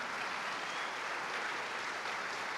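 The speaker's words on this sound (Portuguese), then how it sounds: "Vamos aplaudir ao Senhor por isso" A church congregation applauding during a worship service, a dense, steady wash of clapping that fills the whole moment with no voices standing out.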